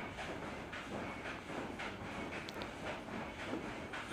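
An AC/DC remote control ceiling fan runs at speed 3, making a faint, steady whooshing hum with a soft rhythmic pulsing and no voices.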